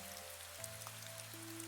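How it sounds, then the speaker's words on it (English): Rain falls in a steady, even hiss with soft scattered drops, a constant wash with no voices, under a low sustained tone that shifts pitch now and then. "The rain stayed."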